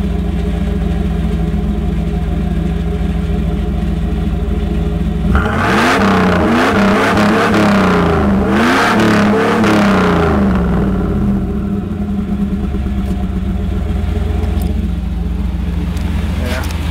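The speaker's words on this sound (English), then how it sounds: "when you just rev it at idle" A nearby Chevrolet Camaro engine idles steadily, then revs up sharply, rising and falling over several seconds before settling back to idle.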